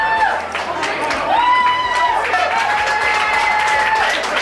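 A crowd at a pub food challenge claps and cheers loudly and continuously nearby, with voices calling out over the steady applause.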